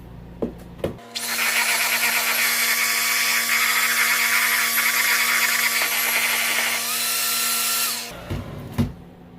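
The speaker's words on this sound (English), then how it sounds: "Blender in hand." A hand blender whirs steadily for several seconds, mixing cannabis oil into a cream cheese pie filling, its motor pitch dipping briefly near the end before it switches off, with a few small clunks around it.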